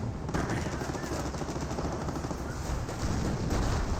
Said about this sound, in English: Rangers firing it up.